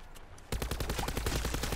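Rapid automatic gunfire from a weapon in Black Ops 4 Zombies gameplay bursts in after a brief quiet moment, a loud, fast string of shots continuing to the end.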